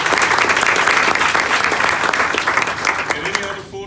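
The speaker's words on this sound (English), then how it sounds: "Give them a round of applause because they were wonderful." A graduation audience breaks into loud, dense applause that carries for several seconds, then tapers off toward the end.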